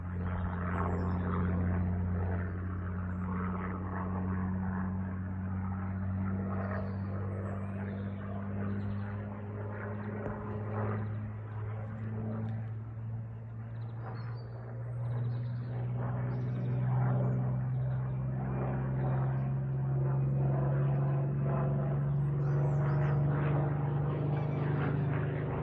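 A light propeller aircraft passes overhead with a steady, droning engine tone that swells and fades slightly, heard alone over the countryside.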